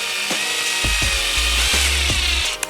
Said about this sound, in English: I got all the screws in, so I'm just going to go around and cinch them all up